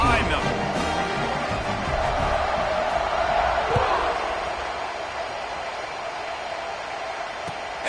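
A stadium crowd roars as a football team lines up to kick off, a broad, continuous wash of cheering and noise that swells slightly midway and sits beneath a commentator's voice.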